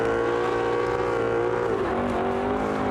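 A Lamborghini race car launches hard at Mondello Park, its engine note rising steadily through the revs with a loud, continuous, harmonic-rich roar that dips briefly around a gear change before climbing again.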